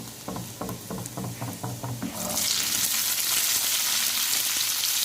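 Cumin seeds dropped into hot oil in a pan while cooking Patiala chicken: a few quick stirring clicks, then a loud, continuous hiss of sizzling that swells and holds close up, with no talk.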